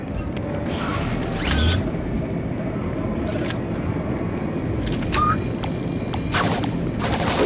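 Sharp bursts of gunfire from the video game Dust 514 crack out intermittently over a dense, steady roar of background noise and rumble.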